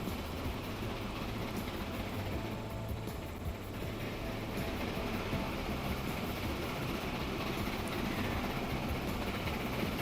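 A steam train in the video game Transport Fever 2 runs with a steady rolling rumble and rail clatter, continuous and unbroken, with no voices.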